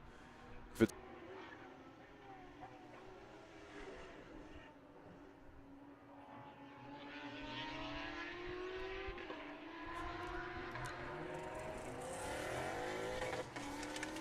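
A race car launches off the line at Laguna Seca, its engine rising in a long revving climb and growing louder as it pulls away, with a race announcer talking over it.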